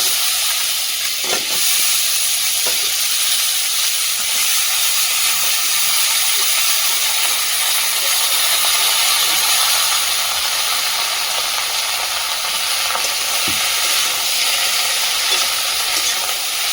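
Loud, steady sizzling of chopped vegetables and ginger paste frying in hot oil fills the whole stretch, with a few faint knocks of a utensil against the pan.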